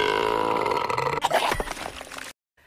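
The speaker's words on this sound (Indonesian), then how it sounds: "tiba-tiba dia bersendawa sangat keras hingga memuntahkan permatanya" A cartoon frog character gives a loud, croaky, gurgling burp that rumbles and growls for about two seconds before cutting off abruptly into silence.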